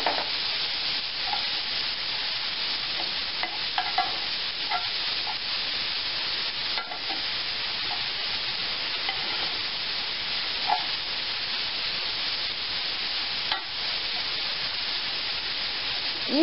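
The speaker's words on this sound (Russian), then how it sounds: "И начинаем обжаривать." Finely grated carrot fries in a pan, giving a steady close hiss and sizzle with occasional soft scraping taps from stirring throughout.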